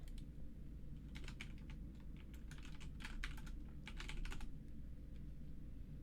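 Clicky tapping and pressing on a wired mechanical keyboard as keycaps are fitted onto its switches, faint irregular bursts of clicks over a steady background hum, no voices.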